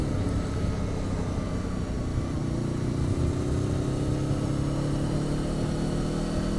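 A Honda VFR800 VTEC motorcycle ridden on a dry road sends out a steady engine drone with a rising tone, up close under continuous wind rush and no voices.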